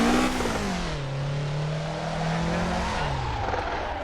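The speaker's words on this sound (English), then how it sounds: "When I just accidentally spun out in the grass, this went the opposite direction." A car skids and spins out on grass in a drifting video game, a loud continuous engine drone with a sliding, wavering pitch and tire scrub, running steadily with no voices.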